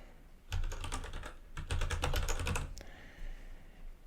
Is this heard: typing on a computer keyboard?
yes